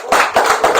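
A studio audience on a French radio bistro show claps briefly for a guest, a close, dense wash of hands in three swelling pulses, with no voices heard.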